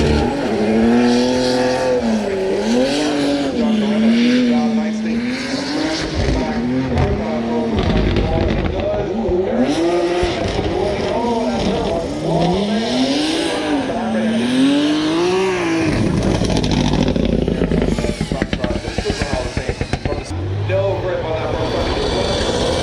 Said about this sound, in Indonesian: ini Supra mesin B58 ya